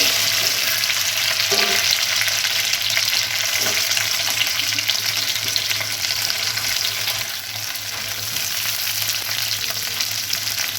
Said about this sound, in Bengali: এবার আমরা ভেন্ডিটা ফ্রাই করে নেব।